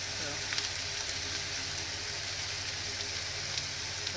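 Tuna steak searing in a hot pan, a steady, even sizzle with faint crackles running throughout at a constant level.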